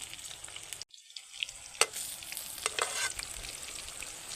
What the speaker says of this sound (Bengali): একদম সুন্দর ডুবো তেলে ফ্রাই হয়েছে